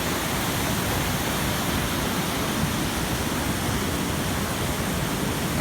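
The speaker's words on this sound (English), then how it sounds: "And you can see the waterfalls." The Krupa waterfalls on the river Vrbas near Banja Luka in Bosnia and Herzegovina give a steady, dense roar of rushing water. It holds constant throughout with no voices.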